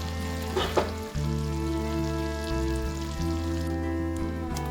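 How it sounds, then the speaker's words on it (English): Cabbage and spring onion stir-fry in a pot, a soft steady sizzle with a few stirring knocks near the start, fairly quiet and close, no talking. "Welcome it with the spring onion. You stir fry for a minute."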